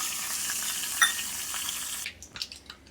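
Mustard seeds crackling in hot oil in a small pan, a soft hiss with scattered faint pops that quiets toward the end, under a few small clatters.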